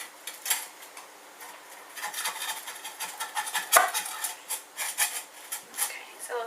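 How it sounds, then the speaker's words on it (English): A utensil scrapes and taps along the sides of a baking dish to loosen a vegetable bake, making a run of light, irregular scraping and clicking sounds close up, with one sharper knock midway. "We just get it away from the sides of the dish."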